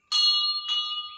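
A temple bell struck twice, each clear metallic ring sustaining with a bright, shimmering tone close by, the second strike slightly softer.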